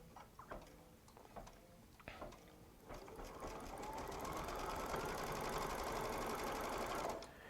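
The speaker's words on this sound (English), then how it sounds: "then I'm going to hit the start button and let it start stitching" A Baby Lock Solaris sewing machine stitches a quilting design in the hoop; after a few light clicks it starts up into a steady whirring hum of rapid needle strokes that runs several seconds, then stops.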